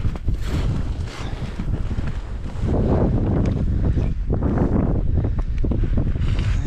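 Strong wind buffets the microphone throughout while ice fishing, a steady roaring rumble that swells louder halfway through, with no voices.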